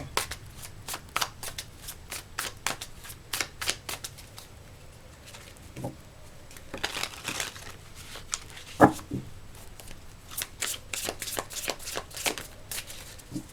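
A deck of tarot cards shuffled by hand in quick riffling bursts, close and crisp, repeated several times with short pauses between, and a few soft taps along the way.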